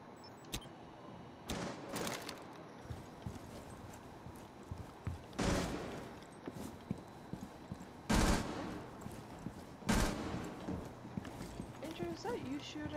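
Sharp, loud gunshots from Rainbow Six Siege on the Chalet map crack out at irregular intervals, some single and some in short bursts, over a low background with faint voices in places.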